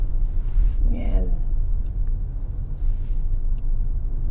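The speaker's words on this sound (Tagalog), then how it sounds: "Ito ang traffic ng Commonwealth." Road traffic on Commonwealth Avenue heard from inside a taxi, a steady low rumble of car engines with a brief passing whine, a voice speaking over it.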